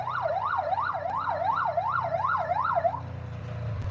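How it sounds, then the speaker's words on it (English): Emergency vehicle siren wailing in a fast, regular up-and-down yelp, fairly close and steady for several seconds before cutting off, leaving low background rumble. "they are having too much fun running that siren right now"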